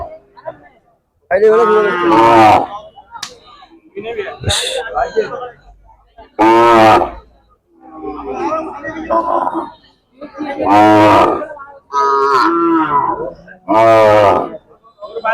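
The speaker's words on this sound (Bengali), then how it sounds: "সুন্দর সুন্দর গরু আসলে দেখতেছে বিভিন্ন রকমের গবাদি পশু" Cattle, cows and bulls, moo loudly and repeatedly at the busy Narayanhat cattle market in Chattogram, with long bellows rising over steady crowd chatter and people talking nearby.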